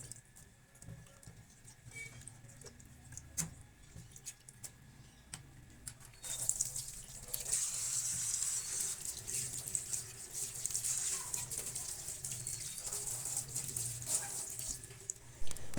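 Tap water runs steadily over cleaned fish in a sink while it is rinsed for a fish fry, a soft trickle at first that swells into a louder, continuous splashing rush from about six seconds on.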